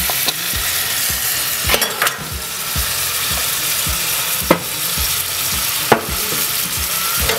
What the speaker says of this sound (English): So we're gonna throw the onions and the pepper and the cilantro in there.